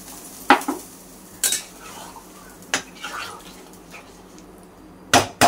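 A lid clatters onto a cooking pot of coriander chicken simmering in water, a few sharp metallic knocks and clinks spaced over several seconds above a low background hum, near and fairly loud.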